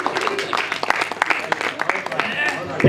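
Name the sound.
audience applause at a poetry event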